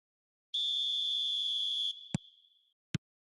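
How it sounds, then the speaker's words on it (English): A referee's whistle starts the second half of a football match: one long, clean shrill blast, loud and steady, fading out, followed by two sharp clicks. "Whistle goes, and we start the second half."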